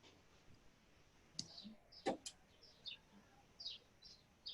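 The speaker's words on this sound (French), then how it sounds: "On entend des oiseaux." Faint, brief bird chirps scattered through a quiet background, several short high calls at uneven intervals with a couple of sharper clicks, no talking.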